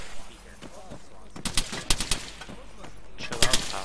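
Video game gunfire arrives in bursts of sharp shots, some rapid and clustered, others spaced out, heard over a low ambient bed with brief voices in the background.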